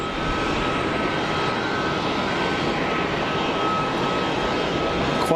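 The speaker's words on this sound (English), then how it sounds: "TAP 321 Neo beginning takeoff roll." A TAP Airbus A321neo jet begins its takeoff roll at Geneva Airport, its engines producing a loud, steady, broadband roar that holds evenly throughout.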